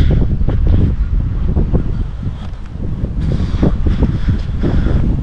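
Strong wind buffets the microphone on a river beach, a loud, continuous roar of gusts with no voices.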